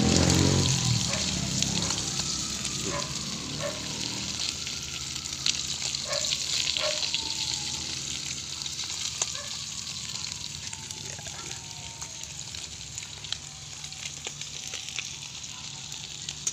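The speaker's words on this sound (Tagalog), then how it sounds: "tapos na akong magprito mga kaibigan" Food frying on an improvised stove in Ilocano home cooking, a steady close sizzle with scattered pops and crackles running the whole way, no talking.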